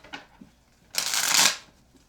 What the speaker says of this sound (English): one more shuffle and we'll get started